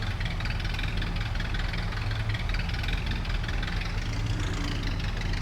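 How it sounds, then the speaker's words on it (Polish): An Ursus tractor engine idles close by, a steady, continuous low rumble with a faint knocking pulse running throughout and no voices. "Fajnie chodzi ten traktor, tak jakoś inaczej."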